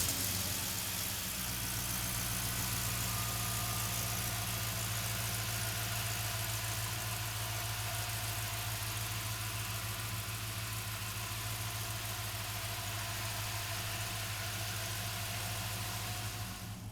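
A 1964 Pontiac GTO convertible with an LS2 V8 starts and settles into a steady, loud idle, a continuous low engine drone heard up close with no talking.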